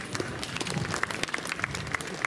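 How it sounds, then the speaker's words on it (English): Scattered clapping from an audience at a church catechist annual day, fairly faint and distant, with individual claps standing out now and then from a thin, steady patter of applause. "with a round of applause"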